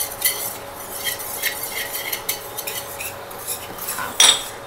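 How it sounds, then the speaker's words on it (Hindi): Flour and butter being mixed by hand in a bowl for a cake, heard as soft, irregular clinking and scraping of a utensil against the bowl, close up with no talk, ending in a brighter clink. "जल्दी जल्दी से मिक्स कर लेते हैं।"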